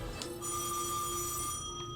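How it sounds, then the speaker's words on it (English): A steady electronic phone ringing tone sounds faintly beneath game music and ambient noise in the video game Death end re;Quest 2, holding a sustained pitch for a couple of seconds. "What is this phone ringing sound?"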